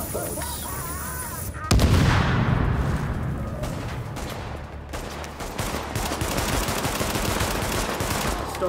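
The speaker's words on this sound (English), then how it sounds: "Stop shooting me!" Gunfire rings out in The Division during Survival mode: a dense, continuous barrage of heavy shots and rapid bursts begins with a sudden loud onset and then keeps up without a break at close range.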